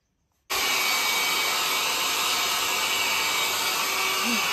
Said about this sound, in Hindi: प्रज्ञासाठी ते हेअर ड्रायर आणलाय मी